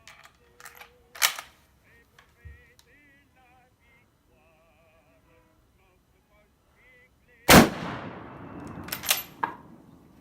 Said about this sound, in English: I'm just going to do 4 rounds at the 25 yards, and then I'm going to do 4 rounds at 50 yards, and see how well she shoots